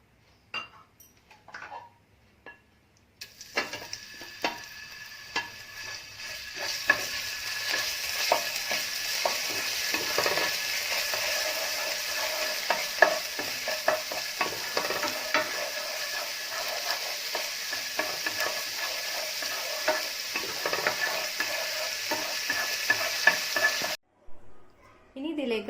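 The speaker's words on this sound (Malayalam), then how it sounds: "പാനിലേക്ക് ആദ്യം അല്പം എണ്ണ ഒഴിച്ചു കൊടുത്ത് ജിഞ്ചർ ഗാർലിക് പേസ്റ്റ് വഴറ്റിയെടുക്കാം." Ginger garlic paste sizzles in hot oil in a pan, a continuous frying hiss that starts suddenly and runs steadily, with a spoon scraping and clinking against the pan, then cuts off near the end.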